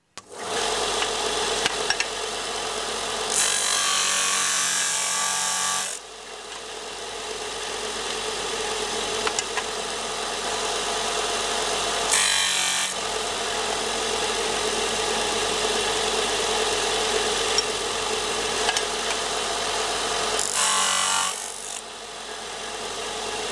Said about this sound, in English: So I'll do this on the sander.